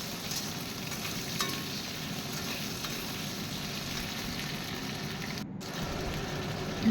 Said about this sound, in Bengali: একটু ভালো করে আগে আলুটাকে ভেজে দেবো